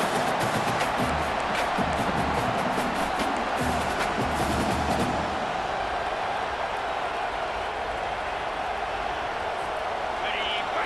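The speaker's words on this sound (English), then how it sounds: "This crowd busting the decibel meter and trying to will a 4th down stop." A dense stadium crowd roars in EA Sports College Football 25, busy with shouts and cheers at first, then settling into a steady, loud, continuous wash of noise for the rest.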